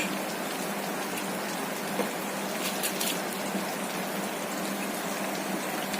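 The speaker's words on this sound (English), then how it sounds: "So water got boiled. Let's add rice to it." Steady hissing bubble of boiling water in a pot as soaked rice goes in for chicken dum biryani, a continuous, even simmering wash with a few brief splashy bursts and no talking.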